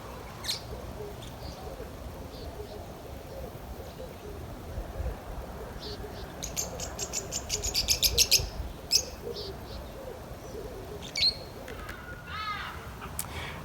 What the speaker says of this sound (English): Look at that, all the birds visiting today. Those are 2 lovebirds.